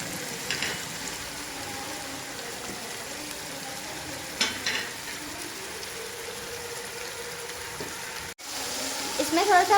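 Spices and tomato fry in a pan with a little water for aloo sev curry, sizzling steadily, with occasional stirring scrapes and clinks over a soft, continuous hiss.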